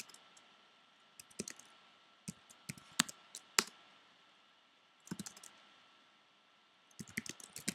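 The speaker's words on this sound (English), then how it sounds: "Type in git status." Someone types a git command on a computer keyboard in a quiet room, giving scattered bursts of light, crisp key clicks separated by short pauses.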